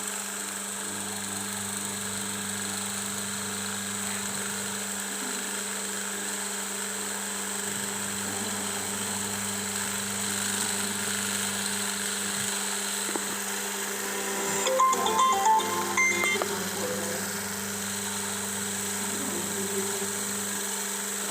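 A single-phase induction motor on a lab load test hums with a steady whine and drone as the brake load is increased, with faint mechanical rattling partway through and no talking.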